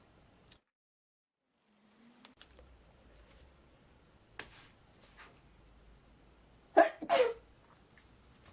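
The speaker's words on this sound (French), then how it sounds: "Je pense que c'est la pollution qui me fait éternuer." A single close, loud sneeze bursts out near the end of an otherwise quiet stretch of faint rustling and small taps.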